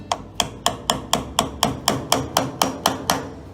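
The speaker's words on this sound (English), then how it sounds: "Again, couple hammer taps, keep spraying it." A dozen sharp hammer taps strike at a steady, even rhythm while taking an asbestos sample, each a crisp metallic hit with a short ring, close by and fairly loud.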